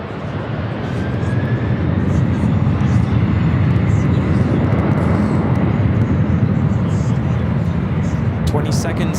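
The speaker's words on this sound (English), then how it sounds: "Looking at Delta Airlines, flight 443 taking off to Honolulu on the 767 300ER" A Delta Boeing 767-300ER taking off at LAX on a flight to Honolulu, heard as a heavy, sustained jet roar that swells and then holds loud and steady, with occasional faint background sounds.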